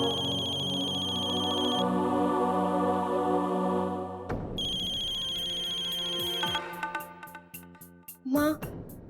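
A melodic phone ringtone plays steadily for several seconds, then cuts off and a voice speaks briefly amid clatter.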